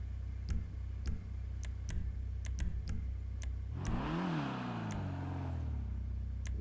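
Dinka Blista Kanjo hatchback in GTA Online gives one quick engine rev that climbs and falls back, set against a steady idle hum and scattered light ticking clicks.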